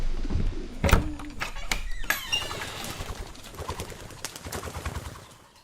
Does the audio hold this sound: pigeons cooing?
yes